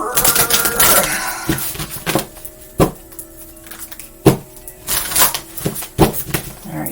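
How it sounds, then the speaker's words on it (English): Oracle cards being shuffled by hand in an indoor reading, a run of crisp papery riffles and slaps with irregular rhythm, close and fairly loud, with occasional sharper taps between bursts. "Another shuffle?"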